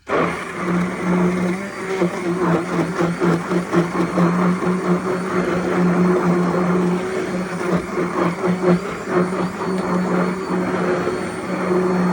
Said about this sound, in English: this is my Cuisinart blender